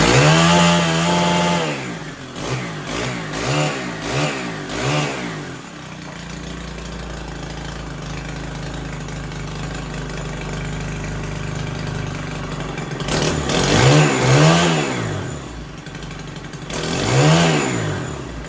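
A Stihl KM90R weed eater engine idles with a buzzy, close two-stroke drone and is repeatedly blipped into sharp rising revs, quieter steady idling in the middle, then more bursts of revving near the end.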